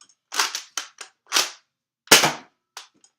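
A Nerf sniper Uzi springer toy blaster fires in a series of sharp, close snapping pops, irregularly spaced with brief silences between them, some shots with a slightly longer crack.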